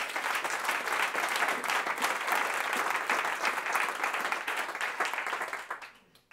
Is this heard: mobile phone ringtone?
no